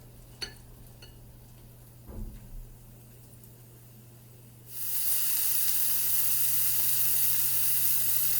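After a few quiet kitchen clinks and taps, a loud, steady sizzle of lamb arayes frying in a hot pan starts suddenly and continues.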